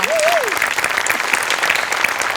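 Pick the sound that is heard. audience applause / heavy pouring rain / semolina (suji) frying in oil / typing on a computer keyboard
audience applause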